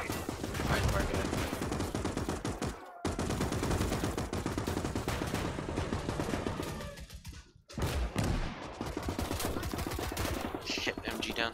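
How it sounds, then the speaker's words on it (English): Sustained automatic gunfire from a Maxim machine gun in the WWII strategy game Gates of Hell, loud and nearly continuous with dense rapid bursts, two brief gaps, and other battle noise layered in. "God damn, they're fucking Maxim or something."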